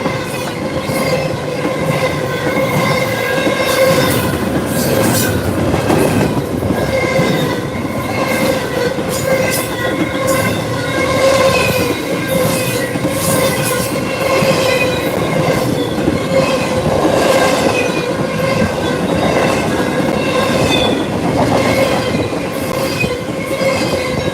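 A long CSX intermodal freight train rolls past close by in North Chili, New York, producing a loud, steady rumble of rail cars with rhythmic clickety-clack and occasional wheel squeal throughout.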